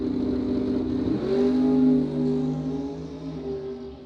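A Chevrolet Nova door car and a Kawasaki drag bike launch together off the starting line at a bracket drag race, engines roaring loud and close with a rising surge in pitch as they pull away.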